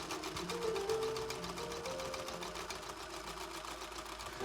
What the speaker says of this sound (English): This is where I do my sewing.